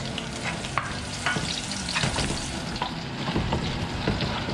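Garlic and then onion sauté in hot oil in a pan, a steady close sizzle broken by intermittent scraping and stirring strokes from a utensil, with no talking.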